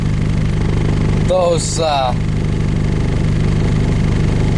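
Diesel engine idling after a cold start in winter, thick gear oil churning; a steady low rumble runs throughout, loud and close, with someone speaking briefly over it.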